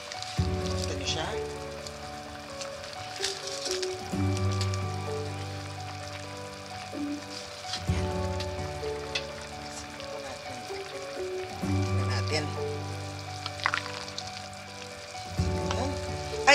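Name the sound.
Japanese simmered vegetables (nimono) boiling in a pot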